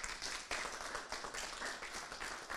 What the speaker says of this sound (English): Maybe we should give them an applause